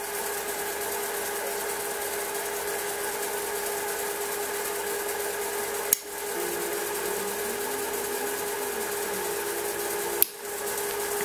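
A Hobbymat 65 lathe runs under electrical power, the carriage traversing down the bed, producing a steady motor hum with tonal whine, a gentle rising-falling pitch sweep mid-way, and two sharp clicks.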